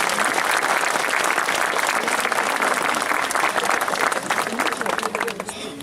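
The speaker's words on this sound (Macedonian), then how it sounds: "Ќе ја молам со еден аплауз да го наградиме ова што заслуга на сите вас." Sustained audience applause at a musical and poetry evening, dense and loud throughout, tapering slightly toward the end.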